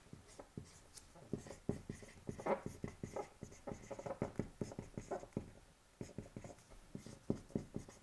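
A pen scratches across paper in quick, irregular strokes and taps, close and quiet, continuing steadily while a document is written by hand.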